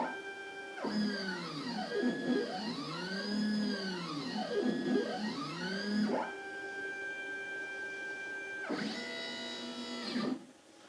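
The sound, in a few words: X-Carve 750 mm CNC machine running test job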